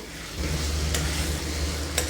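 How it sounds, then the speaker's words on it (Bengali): Spices and partly cooked potatoes being fried and stirred in a pan for lentil dal, a close sizzle that swells after a moment, with a couple of sharp utensil scrapes. "এবার মশলা কষিয়ে নেব"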